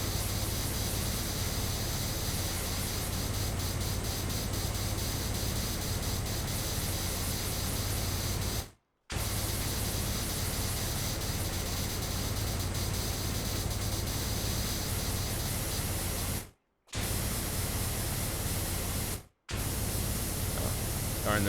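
Pressure washer spray in the PowerWash Simulator video game, a loud, steady hissing rush running nearly continuously with a few brief cutoffs, and talk faintly under it.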